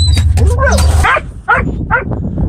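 Dogs bark in a few quick, sharp yaps at moderate distance over a low rumbling background.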